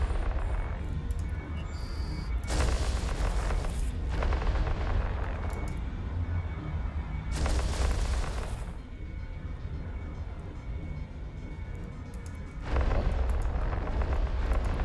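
Energy neutralizers firing in Eve Online during a Bhaalgorn versus Drekavac fleet test, heard as loud, sustained booming bursts in repeated waves of a few seconds each over a constant low rumble, with no talk.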